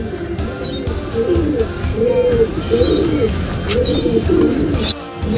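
Pigeons coo steadily in a breeder loft of stock birds, several low rolling coos overlapping over a constant close background murmur of the flock, with occasional faint chirps and no talk.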